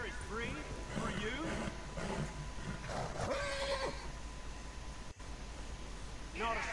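A goblin horse in a video game neighs and whinnies, its cries rising over steady game noise and a talking voice, with faint hoof clops mixed in.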